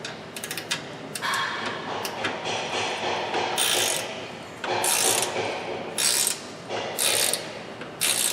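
A ratchet tightening bolts on a Ford Edge lower control arm, with bursts of rapid clicking separated by short pauses, close and clear with no talking.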